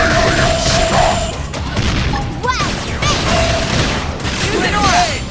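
A beam barrage attack in the video game Xenoblade Chronicles X: a loud cluster of rapid booming blasts and crashes over busy battle sound effects, with a voice talking over part of it.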